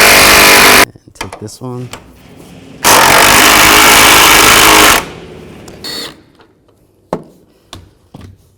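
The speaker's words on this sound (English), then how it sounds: "Now we're going to take these 3 bolts out, use a 13mm socket." An impact gun with a 13mm socket buzzes loudly in two bursts, removing the three strut bolts from a 2006–2010 Volkswagen Jetta. Metallic clinks and a short spoken remark fall between the bursts.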